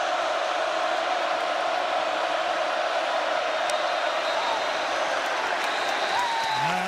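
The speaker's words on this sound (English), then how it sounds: "Crowd getting loud on 3rd and 13." A football stadium crowd at an Oklahoma State versus Oregon game roars on a third-and-long play, a dense, steady wall of cheering and whooping that stays loud throughout, with scattered shouts rising above the din.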